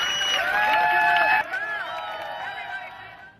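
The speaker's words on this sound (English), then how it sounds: "A round of applause for Kevin." An audience cheers and whoops loudly at a drag performance event, then the noise drops to a lower crowd murmur with scattered calls.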